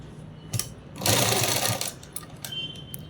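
Sewing machine stitching a shirt in brief bursts: a short whir, then a longer steady run of rapid stitching, then quieter mechanical clicks as the fabric is adjusted.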